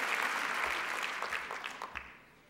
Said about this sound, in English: yes, I clap for that